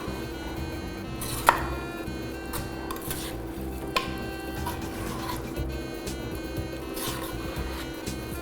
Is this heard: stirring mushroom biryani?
yes